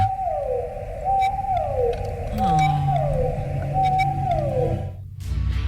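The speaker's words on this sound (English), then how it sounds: "I was trying to find songs of sad whales, haunting whale sounds." Long, mournful whale calls sweep downward again and again in a slow repeating pattern, with a deeper moaning tone beneath, resonant and close.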